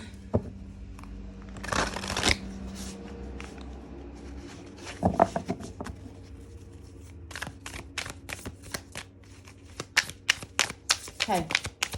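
Tarot cards being shuffled by hand, with crisp riffling bursts and clusters of quick flicking taps up close, joined by someone talking softly at times.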